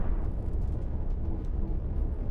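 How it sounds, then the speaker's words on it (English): Deck cannons fire aboard battleships in the space game Cosmoteer as a steady, dense low rumble of overlapping blasts, loud and continuous throughout with no clear gaps. "here we go, the cannons are firing"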